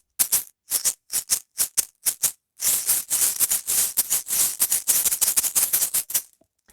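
A rattle shaken in short bursts, several quick separate shakes, then a longer continuous rattling run that stops abruptly.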